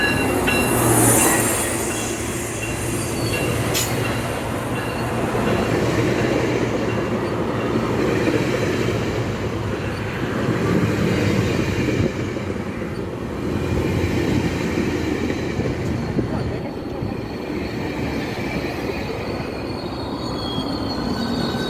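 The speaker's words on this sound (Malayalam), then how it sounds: "ഇപ്പോൾ ഞങ്ങളുടെ ട്രെയിൻ ഇതാ വരുന്നുണ്ട്" A passenger train pulls into a station near Toronto, a loud, steady rumble of wheels and rail cars with squealing wheels throughout, close by and with no talking.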